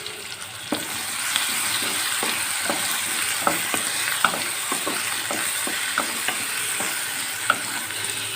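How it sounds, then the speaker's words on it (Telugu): Chopped onions and curry leaves fry in a pan while a spoon stirs them, giving a constant close sizzle with regular light scrapes and taps against the metal. No voices are heard. "ఆనియన్స్ కూడా ఫ్రై చేసేసుకోవాలి. ఇందులో కొద్దిగా కరివేపాకు వేసుకొని ఇవన్నీ కూడా మంచిగా ఫ్రై చేసుకోవాలి."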